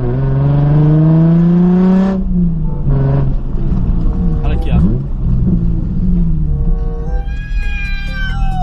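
Nissan 350Z engine in the Free Fire video game, revving with a rising, strained tone, then a steady drone under a talking voice.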